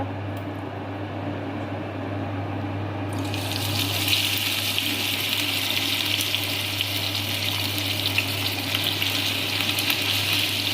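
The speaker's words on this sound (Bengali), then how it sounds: "এখানে আমি প্যানে তেল দিয়ে দিয়েছি এখন আমি মাছটা দিয়ে দিব" Rohu fish goes into hot oil in a pan: a quiet low hum, then a sudden loud, bright sizzle that starts a few seconds in and crackles steadily, with no talk.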